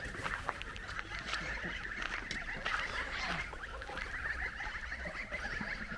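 Farmyard geese honking and chattering nearby, a continuous noisy flock murmur with scattered calls, outdoors with no talking.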